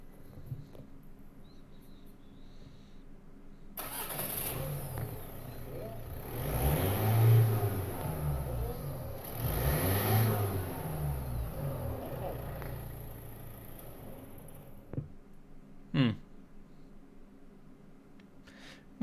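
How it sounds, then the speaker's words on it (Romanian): Mitsubishi Lancer sedan engine cranks to life and revs, two strong swelling roars followed by a settling idle, then a short extra blip near the end. "Ia să vedem cum sună motorul."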